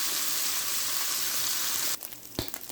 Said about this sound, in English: We're going to break this up and let it cook for about 4 to 5 more minutes and it's browning real quick.